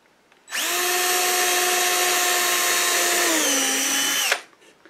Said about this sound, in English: So I'm going to pre-drill.